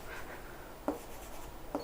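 Pen or pencil scratches quietly across a maths worksheet in a classroom setting, soft continuous rubbing broken by two sharp taps of the tip against paper.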